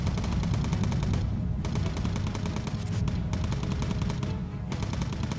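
Rapid machine gun fire from bomber turrets in the World War II flight game Bomber Crew, loud continuous bursts with brief gaps, dense and alone without talk.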